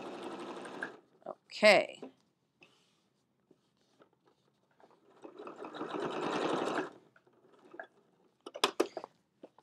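A sewing machine stitches vertical quilting lines on a fabric basket in two sustained runs of rapid mechanical whirring. The stitching is separated by short pauses and clicks, and someone speaks briefly.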